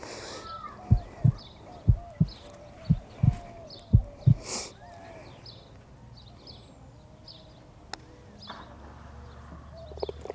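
Heartbeat effect playing during a golf round, a series of about eight loud, evenly spaced low thumps in pairs over the first half, then fading into quiet outdoor ambience.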